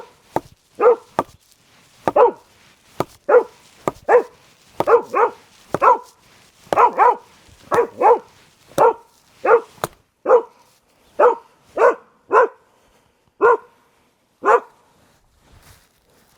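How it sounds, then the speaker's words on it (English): A dog barks outdoors beside a garden greenhouse on an island, about twenty loud, sharp barks coming singly and in quick pairs at an uneven pace, close by and with no talk. "What are you barking at?"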